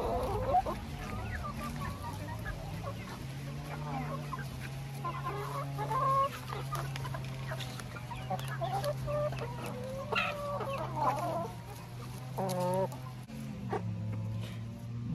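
Young chickens cluck and peep steadily while being fed spinach and beet leaves, a close, busy chorus of fowl sounds with a low steady hum underneath.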